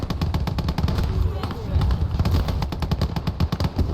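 Tank cannon fire and battle noise in the World War II game Gates of Hell Ostfront, with dense repeated gunfire bursts and heavy impacts while someone talks over the action.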